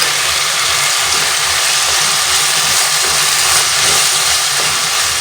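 Crushed garlic and tomatoes sizzle in a hot pan while vegetable pulao is being cooked, giving a loud, unbroken frying hiss from start to finish with no voices.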